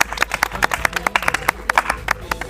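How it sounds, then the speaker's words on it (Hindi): A game-show studio audience breaks into sharp, rapid clapping on a quiz contest set, a dense burst of many hands close and loud, with no voices over it. "चलिए भाई जोरदार तालियां हो जाए"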